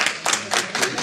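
Scattered clapping from an audience at a DOT public hearing, a few rhythmic bursts of hands close by in a room.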